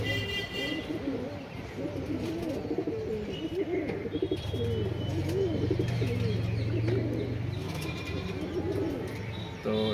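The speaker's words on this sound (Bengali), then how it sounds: "এই যে আমাদের যেটা দেখতে পাচ্ছ এইটা মাদি পায়রা, এটাও কালাঙ্কা" Pigeons coo repeatedly in a pigeon house, a steady chorus of low, rolling calls close by, with occasional higher chirps and wing movement and a faint voice in the background.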